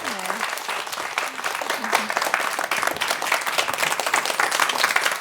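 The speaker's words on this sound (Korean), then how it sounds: "인생 산막을 위해서 우리가 힘차게 박수를 좀 보내드리면 좋을 것 같아요." A church congregation in a Korean church gives strong, sustained applause that holds steady throughout. A voice is briefly audible at the start under the clapping.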